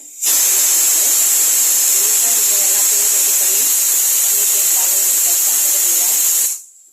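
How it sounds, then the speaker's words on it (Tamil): Onions and green chili sizzle loudly and steadily in a hot pan while tempering for sambar, a bright continuous hiss that starts and stops abruptly, with a voice talking softly beneath it. "ஒரு பச்சை மிளகாய் போட்டு வெங்காயம் போட்டு வதக்கிக்கலாம்"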